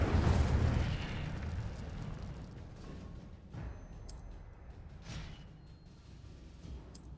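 Incendio fire spell in Hogwarts Legacy bursts with a loud whooshing blast that fades into a crackling rumble, followed by softer hits and a couple of brief high shimmering effects.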